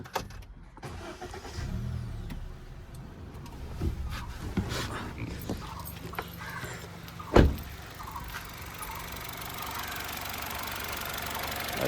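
A 2024 Honda Amaze VX top-model sedan settles into a steady idle after a push-button start, with a low continuous engine hum, a sharp click or thump partway through, and no one speaking.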